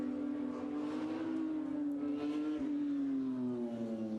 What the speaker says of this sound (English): We can hear a car circulating.